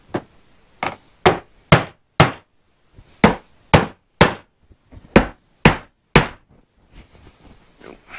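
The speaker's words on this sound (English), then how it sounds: "Our hammer here." Eleven sharp hammer blows on wood while building a pool chair, loud and close, in an uneven rhythm, with quick runs of strikes broken by brief pauses.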